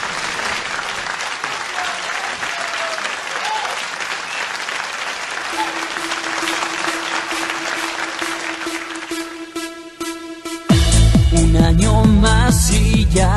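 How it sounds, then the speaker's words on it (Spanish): A television studio audience at Canal Guadalajara TV claps loudly and steadily for about ten seconds before a singer's Christmas song performance; the music then starts abruptly over the fading applause. "vamos a recibirle con un fuerte aplauso"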